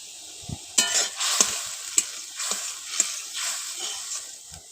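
A spoon stirs raw pumpkin curry masala with salt and turmeric in a pan, producing soft frying hiss under a series of regular scraping strokes and light taps against the metal.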